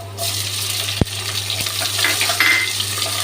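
Onion sautéing in a pan for dal khichdi, a steady hiss of frying with a sharp metallic clink near the start and a few soft stirring scrapes, close and continuous.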